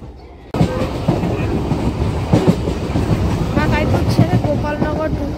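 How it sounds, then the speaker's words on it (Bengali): A passenger train runs on rails near Ranaghat in West Bengal, a loud steady rumble with rhythmic clickety-clack from the wheels, heard close up from inside the carriage with wind buffeting the microphone. "ট্রেন এখন রানাঘাটে ঢুকছে।"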